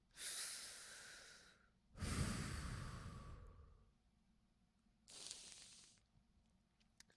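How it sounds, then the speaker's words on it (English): A single person breathing close to the microphone, with three soft airy breaths in and out separated by short pauses. "Just taking a breath."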